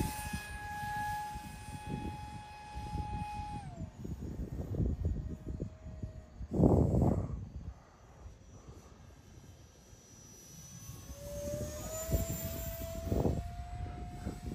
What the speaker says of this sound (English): Great flying plane.